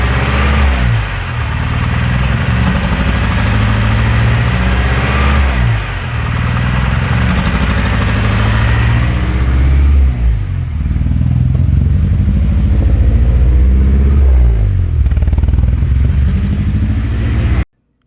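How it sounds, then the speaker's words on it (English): A K-swapped Honda Civic engine runs rough on only two cylinders, loud and close, with an uneven, lumpy idle that rises and falls in repeated surges before cutting off abruptly at the end. "It seems like it's only running on 2 cylinders right now."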